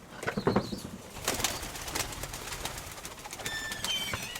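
Domestic pigeons coo softly at close range in a loft, with low murmuring calls, light rustling and a few wing flaps at a quiet level.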